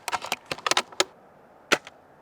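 A worn childhood airsoft sniper rifle fires BBs at dusk, giving sharp dry snaps in a quick irregular cluster, then a pause and two more close, crisp shots, with no talk.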